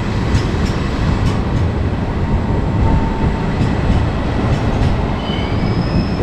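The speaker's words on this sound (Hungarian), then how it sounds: "Ez lett volna a vonatom" A train rolls past at a railway station, a loud continuous rumble of wheels on rails with faint metallic squeals and clicks, steady throughout with no voices.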